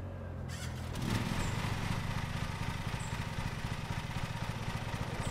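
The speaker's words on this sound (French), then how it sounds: "Donc voilà notre tracteur, hop. Du coup, on va pouvoir le démarrer." A riding lawn tractor in the Lawn Mowing Simulator video game cranks and fires up, then settles into a steady, throbbing engine idle that runs alone until the end.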